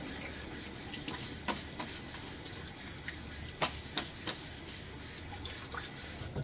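A razor is rinsed under running tap water in a sink, a quiet steady stream with a few light splashes and clinks as the blade is shaken and tapped.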